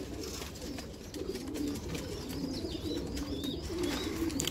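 Iraqi domestic pigeons cooing steadily in a loft, soft repeated coos over a constant background hum, with faint chirps from other birds mixed in.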